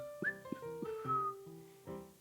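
A cartoon green pea whistles a short, cheerful tune of several bright, sustained notes, clear and alone with no talking.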